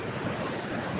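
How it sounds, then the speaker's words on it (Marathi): Water released from Khadakwasla dam rushing along in a dense, steady roar, loud and close with no break. "हे डायरेक्ट डॅमचं पाणी इथं येतंय, डॅमचं पाणी इकडे येतंय"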